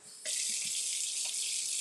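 Hot water gushes steadily from a kitchen faucet into a sink to rinse a cast iron pan that held ground beef, a loud continuous splashing rush that starts abruptly and keeps running.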